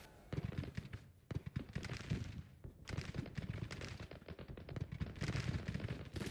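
Cannons and gunfire boom in a video game battle in the Grand Tactician Union campaign, with dense, continuous volleys of overlapping shots and blasts rolling on without pause.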